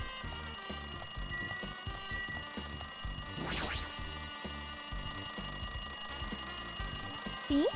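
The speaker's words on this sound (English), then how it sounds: "It looks like the phone is ringing." A phone in the Danganronpa 2 video game rings continuously in a rapid, shrill electronic trill that persists steadily for several seconds over faint background music, with no talking.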